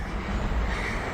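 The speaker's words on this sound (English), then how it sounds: "It's about time we got some trains." Freight trains pass by with a steady, broad rumble and roar close by outdoors, with no talking.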